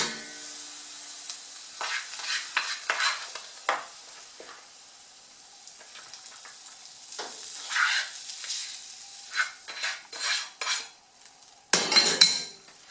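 Cooked sofrito being stirred into rice in a pot, with repeated scraping and stirring strokes, soft clinks of a utensil against the pan and a faint sizzle underneath, fairly close and without talk.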